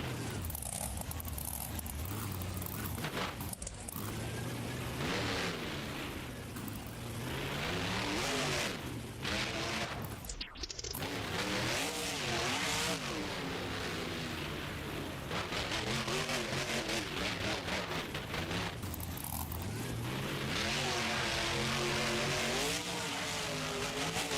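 Monster Mutt Dalmatian monster truck's big engine revving hard at a Grand Forks, North Dakota arena show, a loud continuous roar rising and falling with throttle bursts, distant crowd wash underneath.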